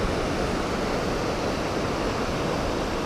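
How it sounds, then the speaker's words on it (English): River rushing through a mountain canyon on the Salkantay trek to Machu Picchu, a steady, dense roar of flowing water that holds constant and loud throughout with no voices. "And a beautiful, beautiful river down there."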